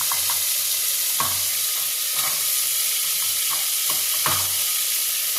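Chicken frying in a pan as carrot and sweet potato are added, a steady close sizzle throughout with several soft stirring knocks and scrapes.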